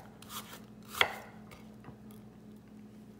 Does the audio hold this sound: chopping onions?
yes